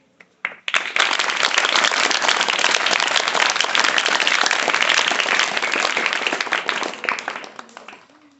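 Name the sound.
audience clapping briefly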